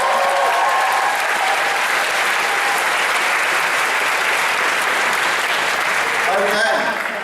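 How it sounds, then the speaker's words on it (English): A Wales Comic Con 2018 audience, celebrating the tenth anniversary before a Buffy the Vampire Slayer panel, claps loudly and steadily for the whole stretch, dense applause filling the hall with a few scattered cheers near the end. "Let's get a round of applause."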